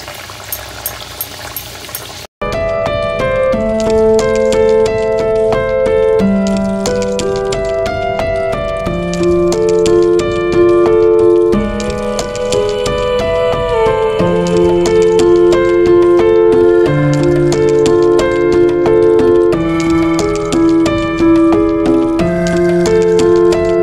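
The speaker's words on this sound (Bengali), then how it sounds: "এবার আমার ওদিকে তেলটাও গরম হয়ে গেছে, এবার আমি এগুলো একটা একটা করে ভেজে ফেলবো" Kochuri, pea-stuffed puris, deep-fry in hot oil with a steady bubbling sizzle that runs beneath louder melodic background music for most of the stretch.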